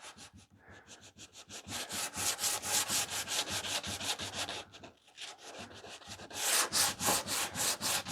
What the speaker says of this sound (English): anywhere I put this stuff along the edges, I'm going to sand with 150 and maybe come back with a 220